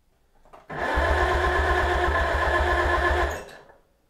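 The starter cranks the Farmall Cub tractor engine, once seized, during a compression test: a fast, even chug of pulses for about three seconds, close and alone, then it stops.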